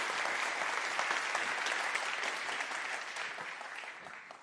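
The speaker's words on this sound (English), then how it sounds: "give him a big round of applause." Conference audience applause for a speaker from OpenAI at AI Native DevCon in London, a steady, dense crowd clapping that fades slightly toward the end.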